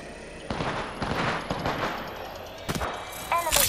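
Gunfire in an Apex Legends-style battle royale match, including Kraber sniper shots: scattered sharp shots and short bursts over about four seconds, with game effects toward the end.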